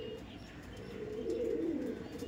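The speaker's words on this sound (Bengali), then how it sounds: "এই একটা পায়রা দেখুন কালশিরা পায়রা, যেটা আপনার মাঝে সেল হবে" Madrasi Kalshira pigeons coo in a low, steady rolling murmur that swells toward the middle and stays close and continuous, with no talking over it.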